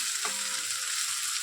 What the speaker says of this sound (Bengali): আরেকটু ভাজবো, আরেকটু ভেজে নিই।